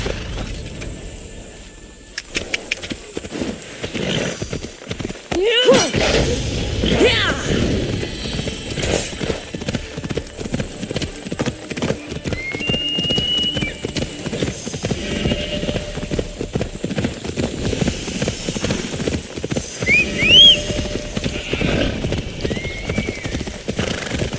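A horse gallops in Assassin's Creed Odyssey, its steady rapid hoofbeats running close and continuous for the whole stretch, with occasional whinnies and snorts.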